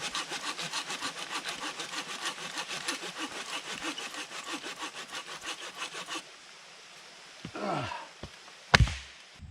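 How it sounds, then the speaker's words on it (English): A hand saw cuts through larger logs for firewood at a backpacking campsite in Virginia, close rapid back-and-forth strokes for several seconds, then stopping, followed by a few scrapes and a sharp knock. "grab the saw and get to sawing up all these bigger logs"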